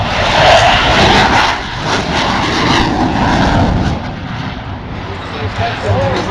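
A fixed-wing airplane roars low overhead during a Navy-style landing at a 2010 airshow, loud and close at first, then its engine drone recedes and settles into a steady distant hum.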